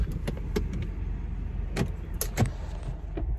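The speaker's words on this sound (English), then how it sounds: "now I'm trying to get out and lock the door while the car is still running" A car engine idles steadily in the background while the driver climbs out, with keys jangling, a door clicking and a few sharp handling knocks close by.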